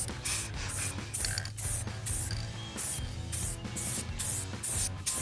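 A BMX helmet is spray painted with an aerosol can in a steady series of short hissing bursts, each about half a second, separated by brief pauses over a low background hum.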